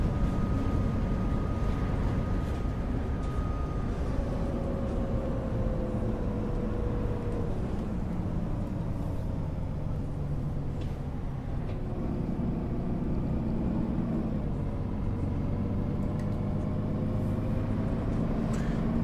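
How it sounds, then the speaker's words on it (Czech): A low bus engine in the video game OMSI 2 drones steadily, its pitch rising and falling as it revs through gear changes. "Ten motor zní jako fakt hodně pěkně."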